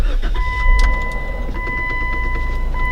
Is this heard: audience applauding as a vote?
no